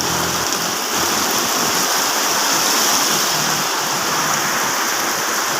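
Heavy rain pours down steadily on a home in Indonesia, a dense, even hiss of water that stays loud and unbroken throughout, with no voices heard.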